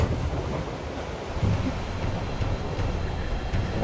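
Strong typhoon wind roars and buffets the microphone continuously at a hut, with deep low rumbling gusts and no voices.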